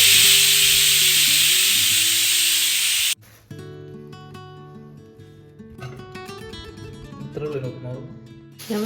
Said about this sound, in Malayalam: കുക്കറിൻ്റെ സൗണ്ട് എളുപ്പത്തിൽ കേൾക്കുന്നുണ്ടാവും